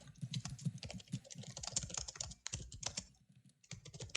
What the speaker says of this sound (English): I'm glad you're typing, but it is loud.